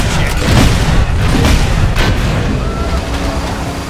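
Lap bomb explosions in the Cars 3 racing video game boom loudly and continuously, overlapping heavy blasts and rumble filling the whole stretch at close range.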